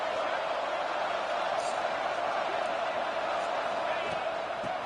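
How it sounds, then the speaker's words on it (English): A football stadium crowd roars and cheers near the goal line, a dense, steady wash of noise that holds at an even level throughout with no clear breaks. "the crowd really making some noise now, trying to help out this defense to get this stop near the goal line"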